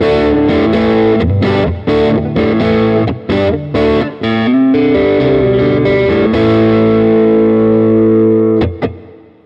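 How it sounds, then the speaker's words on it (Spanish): Electric guitar, a Gretsch Streamliner G2622-P90 played on its neck P90 single-coil pickup with light overdrive, ringing chords and short riffs with a few brief pauses, sustained and loud, ending in a fading chord. "Pastilla del brazo con un poquito de drive."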